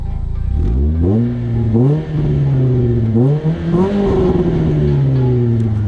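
Exhaust of a Renault Clio RS 3 barks through a series of rising revs, four or five throttle blips in quick succession, loud and close, each climbing and dropping back toward idle.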